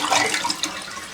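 Water rushing through the flap valve of a toilet that makes loud noise and runs nonstop, a close, hissing splash of flowing water that fluctuates briefly.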